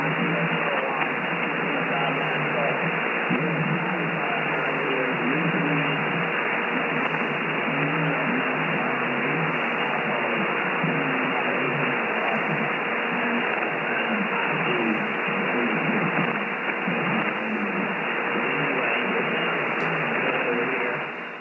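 Ham radio traffic on the 17 m band comes through a DX Commander vertical antenna as a steady wash of band-limited static and hiss. Faint, garbled voices of distant stations sit buried beneath the noise throughout.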